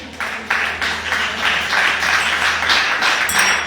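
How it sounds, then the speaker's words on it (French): A church congregation at a spiritual conference claps together in a dense, continuous wash of applause that holds steady at a moderate level throughout. "si pas contre l'autre monde, on applaudit aussi parce que nous tous comprenons"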